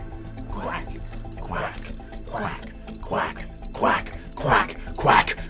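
Several people take turns imitating duck quacks with their voices during a game night, giving a series of about seven loud, evenly spaced vocal quacks that grow stronger toward the end.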